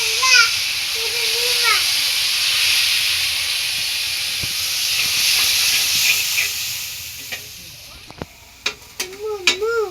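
Pabda fish cooking with spices in a pan, heard as a continuous frying hiss. A child and an adult talk over it, and sharp clatters and voices come near the end.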